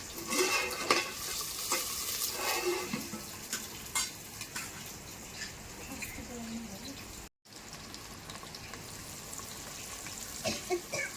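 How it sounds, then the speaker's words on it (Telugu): Country chicken curry frying in oil in a pan, with soft sizzling under scraping stirring strokes, fairly faint and continuous with a brief cut partway through. "నాటుకోడి కూర వండుకుంటున్నాం మేము. ఫస్ట్ ఆయిల్ వేసుకోవాలి."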